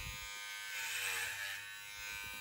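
An electric hair clipper runs with a steady, close buzzing drone, rising slightly in the middle, with no talking over it.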